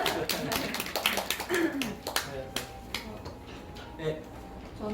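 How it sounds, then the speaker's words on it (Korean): A small group claps in a room during a Korean-language talk, giving a short burst of quick, uneven claps that fades into scattered taps while voices continue. "박수 한 번 더."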